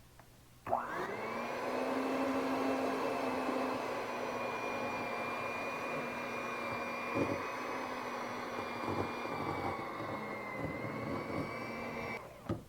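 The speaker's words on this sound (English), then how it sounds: "we're just going to mix that until it's creamy" An electric mixer creams butter with two cups of powdered sugar for ginger crackle Christmas cookies, its motor kicking in sharply and holding a loud, steady whirring drone for nearly the whole stretch before cutting off at the end.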